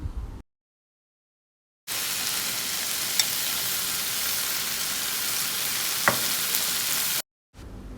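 Vegetables and cooked rajma stir-fried in a hot pan, a steady broadband sizzle and hiss running for several seconds with a couple of sharp clicks from the spoon, no voices.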